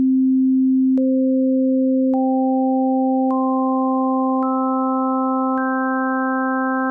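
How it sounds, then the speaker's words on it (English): A synthesizer holding one steady low note while harmonic overtones enter one at a time, each addition marked by a soft click, building a brighter, fuller chord-like tone over seven seconds with no talking. "I'm gonna hold down this note and then I'll add the first few overtones and you can hear what that sounds like."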